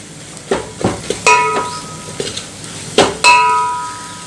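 A metal spoon stirs chicken with black masala in a pot, giving loud close clangs and ringing knocks against the pot between softer scraping strokes.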